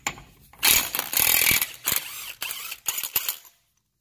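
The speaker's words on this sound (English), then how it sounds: "So we're gonna take off 36 millimeter bolt." Loud ratcheting bursts from a wrench loosening the 36 mm axle nut on a Camaro V6 RS differential during a 2.77 to 3.27 LSD and SS axle swap, in several spurts with brief pauses, ending in silence.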